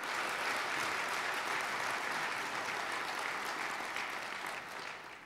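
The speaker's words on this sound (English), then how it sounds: "big round of applause" A university crowd applauds the students' achievements, giving a full, even roar of clapping that holds steady and then eases off slightly near the end, with no talk.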